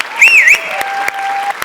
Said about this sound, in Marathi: बुंबाट, सुसाट, जोरदार टाळ्या.